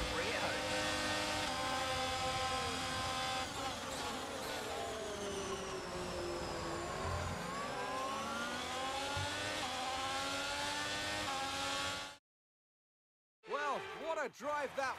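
Formula 1 race car engines from the F1 22 game: a loud, continuous high-pitched engine whine with rising and falling revs and shifting pitch, cutting out briefly to silence before resuming with sweeping tones.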